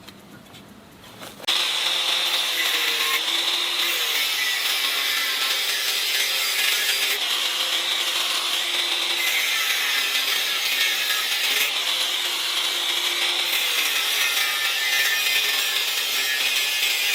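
An angle grinder cuts metal supports for mounting hard saddlebags on a Daelim Daystar 125 motorcycle, starting after a quiet second and then running loud and steady with a harsh, continuous whine until the end.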